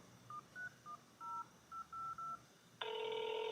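A telephone is dialed, a quick run of about eight short touch-tone beeps at uneven spacing, then a steady ringback or line tone begins, heard alone in a quiet room.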